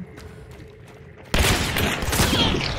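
A shotgun rush in Hunt: Showdown, where a quiet stretch suddenly gives way to a loud, close burst of blasts and crackling gunfire that keeps going to the end.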